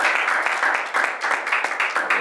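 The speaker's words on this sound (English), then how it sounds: "Go ahead and give the Lord another hand clap of praise" A church congregation claps its hands in praise to the Lord, a dense, steady patter of many hands filling the room at a fairly loud level with no pause.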